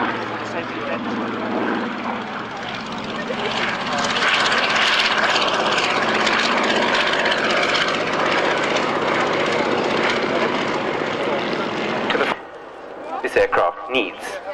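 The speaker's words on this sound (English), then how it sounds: "In flying terms, this is the largest biplane in the world." A replica biplane with modern engines flies over the Yeovil airshow, its loud propeller drone building and holding steady before cutting off, with a voice talking over it and a few knocks at the end.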